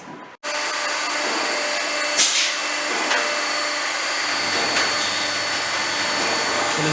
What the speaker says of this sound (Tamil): நீங்கள் பார்த்துட்டு இருக்கிற மிஷின் வந்து ப்ளோ மோல்டிங் மிஷின்